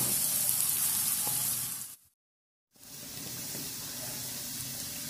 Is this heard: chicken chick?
no